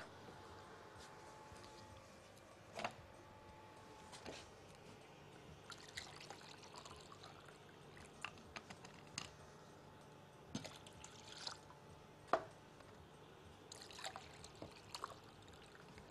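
Water trickles and pours into buttermilk, a faint, steady dribble with small clinks from the container.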